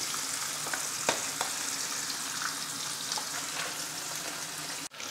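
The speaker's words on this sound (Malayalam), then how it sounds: "അപ്പോൾ നമ്മുടെ ഫിഷിൻ്റെ ഒരു സൈഡൊന്ന് ഫ്രൈ ആയിട്ട് നമുക്കൊന്ന് മറിച്ച് കൊടുക്കാം കേട്ടോ" Ribbon fish frying in oil in a pan over low flame, a continuous close sizzle and crackle with a few faint taps, no voices.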